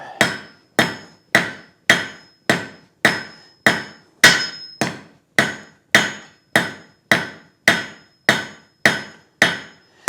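A hammer strikes hot steel on an anvil while a point is forged on a blacksmith's taper, about eighteen sharp ringing blows in a steady, even rhythm, each decaying quickly before the next, loud and close with no talk.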